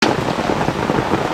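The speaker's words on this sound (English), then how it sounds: "She brought the rain." Steady rain pours down at a campsite in Beaver's Bend State Park near Broken Bow, Oklahoma, a dense, even hiss close by that holds constant for the whole moment.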